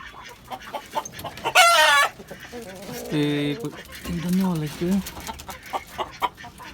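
Backyard desi chickens in a rooftop garden nearby, with a loud crowing call, a few clucks and bird calls amid scattered knocks and rustling; a voice speaks briefly in between.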